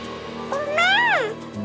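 A single clear meow from a cat in an animated Bengali children's cartoon, rising then falling in pitch, close by over a low steady background hum.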